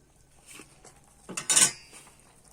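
Malpua batter made with milk is stirred in a bowl, with a spoon scraping and clinking against the sides, quiet at first and then a louder burst of clatter near the end, with no talking.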